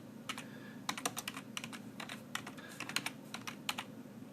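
Keys clatter on a Razer Deathstalker keyboard in quick irregular bursts of taps, close and fairly quiet, with no talking.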